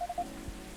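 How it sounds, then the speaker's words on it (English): Soft rain falls outside in the Coffee Talk video game, a faint steady patter on surfaces with a couple of light tonal blips at the start. "A place to be safe while the rain falls outside."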